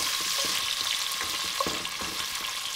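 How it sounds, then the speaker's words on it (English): Bacon lardons, about 200 grams, searing and browning in their melted fat in a pan, giving a steady dense sizzle with faint crackles and small pops throughout, close and fairly loud, with no talking. "In goes the bacon lardons, and we're just going to allow this to now brown"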